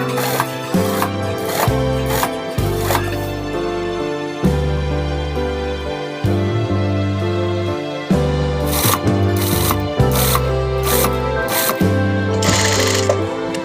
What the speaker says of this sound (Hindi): ये मैं आपस में सिलाई कर रहा हूँ।